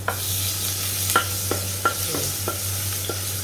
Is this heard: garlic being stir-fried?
yes